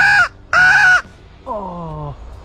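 Two loud, harsh crow caws in quick succession, close by, followed by a softer, lower drawn-out call, during a crow hunt to protect crops.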